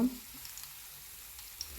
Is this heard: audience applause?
no